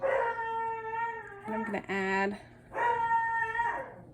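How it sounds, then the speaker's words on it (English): A dog barks in sustained, howling bursts at a delivery arrival, loud and close, with a brief pause between two long volleys while a person speaks alongside. "please excuse my dog. I think he's barking because I ordered some dinner"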